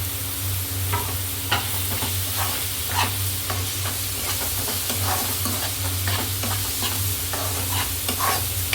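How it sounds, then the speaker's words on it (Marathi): Finely chopped tomato frying with browned onion in a pan, a steady sizzle with soft scraping stirs at irregular intervals over a constant low background hum. "आता आपला कांदा ब्राऊन झालाय. त्यात आपण टोमॅटो बारीक चिरलेला टोमॅटो टाकते."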